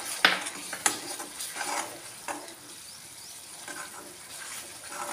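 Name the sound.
frying ground coriander and cumin paste in a pan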